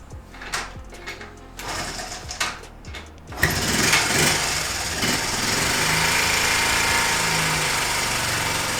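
Honda Z50A small motorcycle engine with low compression, starting up after a few sputtering pops and then running in a steady, buzzy, high-pitched idle close by, with no talking.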